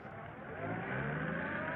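A car accelerates during a chase in an old film serial, a rising engine roar that builds from moderate to loud over the clip, heard alone through narrow, dated-sounding audio.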